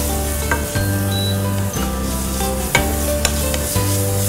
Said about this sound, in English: So just give it a quick stir.